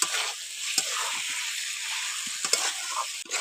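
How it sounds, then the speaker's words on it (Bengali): Pieces of fried chicken stirred into bhuna masala in a pan, with a steady close sizzle broken by scraping and clacking spatula strokes. "চিকেনগুলো দিয়ে ভালো করে নাড়াচাড়া করে কিছুক্ষণ কষে নেব"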